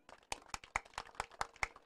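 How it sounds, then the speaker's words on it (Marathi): Applause at a cricket league prize ceremony as Kamalakar Patil is welcomed, a thin, uneven run of individual claps, faint and somewhat distant, with no voices over it. "सर्वांनी जोरदार टाळ्या वाजवायच्या आहेत."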